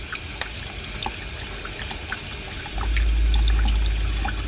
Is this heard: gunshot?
no